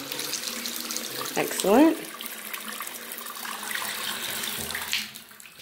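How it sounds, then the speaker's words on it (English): Water from a faucet at a granite bathroom vanity in a large house runs steadily through the whole stretch, with a brief voice speaking over it near the start. "Let's see if the water comes on in this one here. Yeah. Yeah. Good water pressure."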